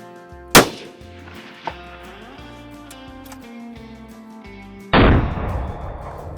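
Rabbit hunting with a Tikka T3X in .260 Remington at long range: one loud, close rifle shot near the start, a fainter knock shortly after, then a sustained burst of rushing noise toward the end.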